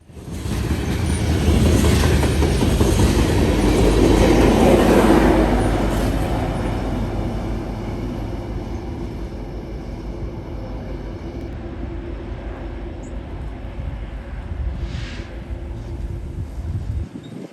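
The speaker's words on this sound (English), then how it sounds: "It's also a bonus that he has a BNSF SD70 ACE pushing on the rear of the train." Freight train rolling past with a BNSF SD70ACE locomotive pushing at the rear, a broad rumbling roar that swells early and then settles into a steadier rolling clatter heard from trackside, with no talking.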